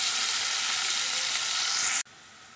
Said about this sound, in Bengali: পেঁয়াজটা ভাজা ভাজা হয়ে এসছে